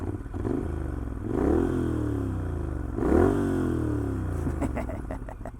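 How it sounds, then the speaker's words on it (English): A Moto Guzzi Griso motorcycle is ridden, its engine note climbing in two strong acceleration surges with shifts between them, loud and close over a steady rumble, with no speech. "I'm gonna go ride my Guzzi some more"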